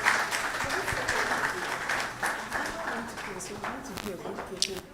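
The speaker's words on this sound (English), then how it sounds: "let's welcome with a round of applause Hilary Bedema to discuss the CEDAW" An audience at a national consultation event applauds to welcome a speaker, a steady wash of clapping that runs throughout with people talking over it.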